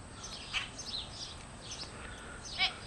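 A small pet bird gives several quiet, high chirps and tweets at irregular intervals, growing a little louder toward the end, over faint background noise.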